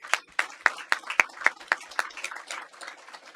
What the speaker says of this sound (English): let's please give a round of applause once again to all the panelists